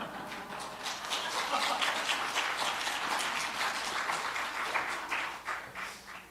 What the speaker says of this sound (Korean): 이렇게 박수를 받게 될 날이 올 거라고는 정말 상상도 한 적 없습니다